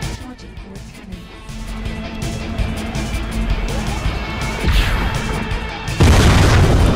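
Cannon fire thunders through a VR game, with deep booms building over a low rumble and one heavy blast landing near the end, loud and close.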